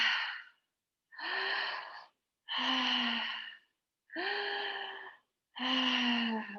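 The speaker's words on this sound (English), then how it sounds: "And just continue breathing like this." Deep mouth breathing repeats five times in steady, evenly spaced breaths, each a loud, rushing, slightly voiced sigh heard up close with silence between.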